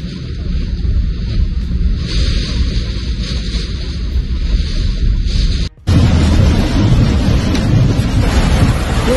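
Strong storm in Sharjah, UAE, with violent gusts loud enough to topple vehicles and tear off roofs, roaring as a continuous heavy rumble of wind and rain that cuts out for a moment and then returns even louder.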